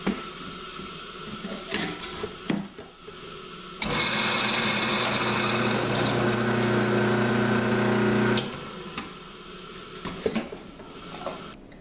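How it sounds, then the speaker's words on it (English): A coffee grinder set to fine whirs loudly and steadily for about four seconds grinding roasted dandelion root, preceded and followed by quieter clinks and handling noises. "I have the setter coffee grinder set at fine"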